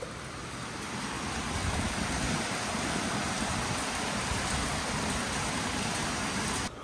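Heavy rain pouring during a thunderstorm in Hoi An, Vietnam, a dense, steady roar of drops on surfaces, close and loud, continuing without a break until it cuts off at the end.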